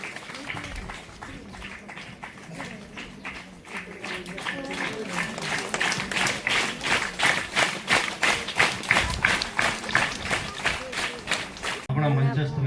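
Applause from pupils and guests at a village primary school enrollment ceremony, a steady run of rhythmic clapping that builds and grows louder, with voices mixed in beneath it.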